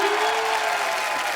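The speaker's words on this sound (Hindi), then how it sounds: "तालियां" Audience applause on a comedy stage show, a steady dense wash of clapping hands filling the whole short moment, loud and continuous with no talk over it.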